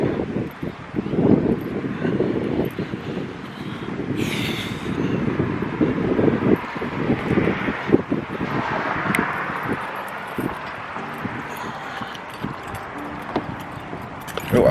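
Strong wind buffets the microphone outdoors beside a truck, a loud continuous rushing roar with gusty surges throughout.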